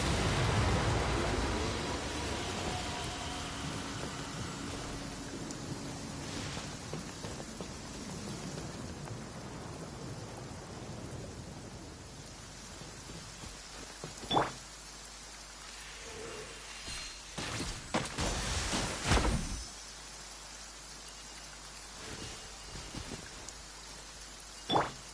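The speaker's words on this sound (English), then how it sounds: "Quite a downpour." Heavy rain pouring down, a steady broad wash of noise that eases off over time, with a few louder thumps and bursts of impact closer by.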